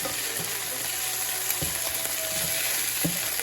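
Shrimp frying in a pan with garlic butter and margarine for a Parmesan shrimp wrap: steady close sizzling with a few soft clicks and stirring scrapes, no voices.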